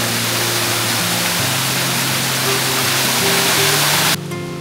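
Waterfall in a Japanese stone garden, a steady dense roar of falling water, loud and constant, with a low engine hum beneath.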